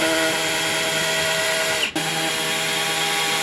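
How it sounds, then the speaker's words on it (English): A power drill bores pilot holes into wood for a small kicker ramp, whining loudly and steadily, with a brief dip near the middle before it carries on. "I am gonna go ahead and drill some pilot holes because I don't want the wood splitting when I put the screws in."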